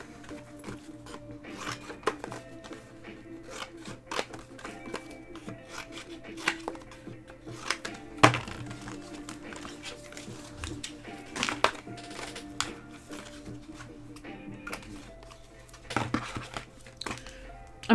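Planner paper being cut down to fit a small drawer: uneven snips, rustles and crinkles with sharp sudden cuts, close and fairly loud, with brief quiet speech now and then.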